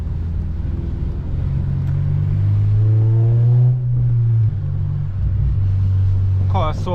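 From inside the cabin, an 8th-generation Honda Civic Si rumbles and climbs in pitch as it accelerates, then settles back, with a voice briefly heard over the engine.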